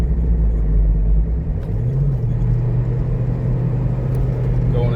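A Ford Transit van drives along in second gear after a downshift. Its engine gives a steady low rumble close by, with one brief pitch shift partway through, and no one talks.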